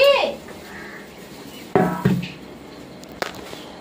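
Fried fish pieces are added into curry gravy in a pan, with a few sharp metallic clanks and clatters of a utensil against the pan over a quiet background, the knocks coming close together and then one more after a pause.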